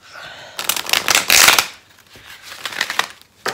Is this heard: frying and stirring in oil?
no